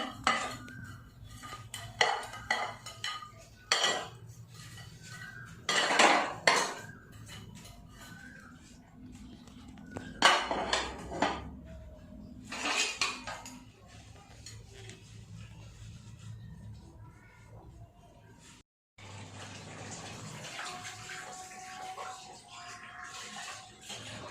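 Dishes, pots and cutlery being washed by hand in a home kitchen after a biryani meal for guests, with repeated clinks and clatters of metal utensils and running water, loud bursts between quieter scrubbing, and a steady water stream near the end.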